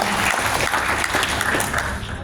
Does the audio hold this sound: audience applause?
yes